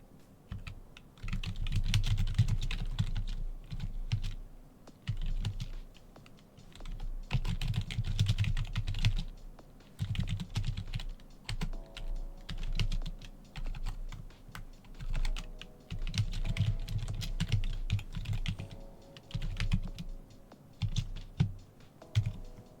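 Keys on a computer keyboard are typed in uneven bursts of quick clicks, pausing briefly between runs, close and clear with no talking.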